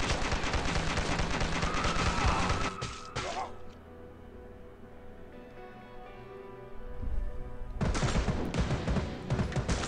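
Machine gun fire in Dead Ahead: Zombie Warfare, loud rapid bursts of automatic shooting that break off into a quieter stretch and then return, amid other game noise.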